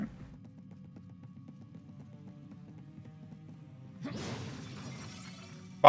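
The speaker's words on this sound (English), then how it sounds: "Smashing boxes does give you stuff." Boxes smash in the Final Fantasy Origins: Stranger of Paradise demo, a sudden breaking crash after a quiet stretch of low game ambience, followed by scattered debris noise and another sharp hit at the end.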